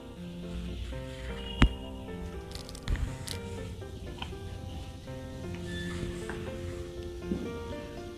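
Ulta vada pav coated in gram flour batter frying in hot oil, giving a soft, steady sizzle and bubbling under background music, with a couple of brief sharp pops.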